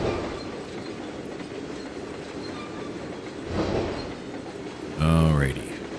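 Train passing in the Trainz 2022 rail simulator game, a steady rumbling rolling noise throughout, swelling briefly midway, with a short loud tonal horn-like burst near the end.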